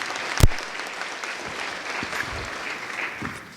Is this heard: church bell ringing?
no